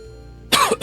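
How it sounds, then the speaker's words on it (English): A single short cough rings out, followed by a brief second burst, close and fairly loud after a faint, quiet lead-in. "Just cough a little bit."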